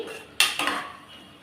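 Ladle stirring sautéed vegetables for sambar rice in a pressure cooker, with two sharp metallic scrapes and clanks close up against the pot, then quiet cooking background.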